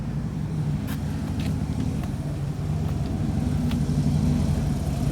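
A Harley motorcycle rides outdoors doing wheelies, producing a continuous low engine rumble at a steady, moderate distance, with no voices.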